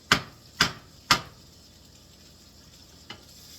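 Eggs fry in beef grease in a pan with the heat off, giving a faint background sizzle broken by three sharp scraping taps in quick succession and one softer tap later, with no voices.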